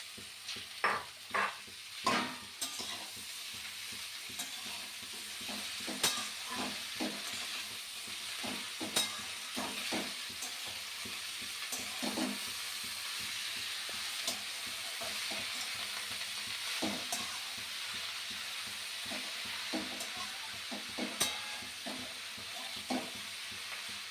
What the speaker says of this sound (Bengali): এবার আমি শাকটা দিয়ে দেব। দিয়ে ভালো করে নাড়ব।